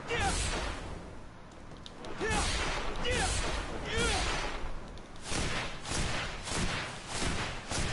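Shadow missile spells striking in the fantasy RPG Greedfall, a run of loud whooshing thuds and bursts spaced across the clip amid combat clatter.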